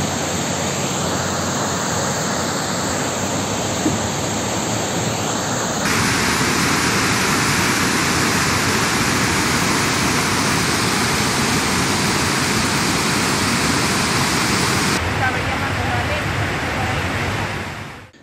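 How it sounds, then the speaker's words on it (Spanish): A river swollen by recent heavy rains rushes past in a loud, continuous roar that stays steady and close throughout, with no clear voices over it. "Las recientes lluvias han ocasionado el crecimiento en el río San Juan y Pacual"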